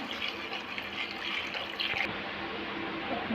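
Water pours steadily into a cooking pot for biryani rice, a continuous close splashing stream that shifts in tone partway through as the pot fills, with no voices.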